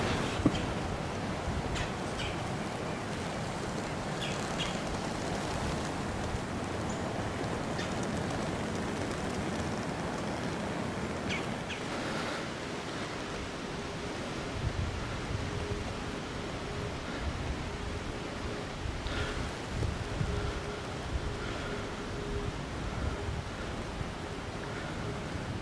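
Cold wind blows outdoors in a sheltered creek bottom during deer season, a steady broadband rush with gentle swells and faint distant sounds, no talking.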